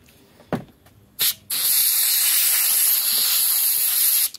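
Compressed air blasts through an electric stove control switch from an Amana range with a stuck-on element: two short puffs, then a long, steady, loud hiss lasting about three seconds.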